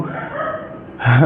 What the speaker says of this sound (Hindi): आप कुत्ते भी भौंक रहे हैं